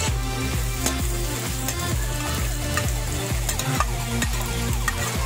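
Carrots and ginger sautéed in a pan, giving a steady close sizzle with repeated rhythmic stirring and scraping throughout, with no talking.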